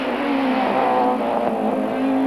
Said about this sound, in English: Laurent Aiello in the Peugeot 405, followed by the 2 Opel Vectras of Eric Ellery and Alain